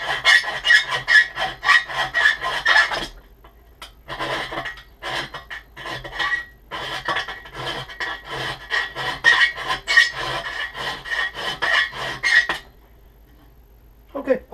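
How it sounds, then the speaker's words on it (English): Hand file rasping on metal while building a portable bandsaw stand, repeated close strokes in steady bursts with a pause midway and near the end. "just a little bit of the filing work here"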